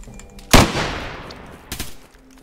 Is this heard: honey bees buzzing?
no